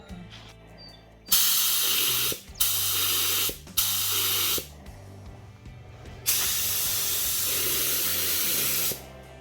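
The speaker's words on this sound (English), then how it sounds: "I've got the gun reasonably dialed, pretty good fan and a decent amount of volume, and let's do the test sprays." Paint spray gun test-spraying on a 2001 Dodge Ram 3500 Cummins truck frame: four loud, close bursts of broad hissing spray, three short ones around a second each, then a longer steady blast of about three seconds.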